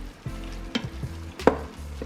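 Browning meat for chili stirred in an Instant Pot, with a soft sizzle under a few distinct spoon scrapes and knocks, close and fairly quiet with no talk.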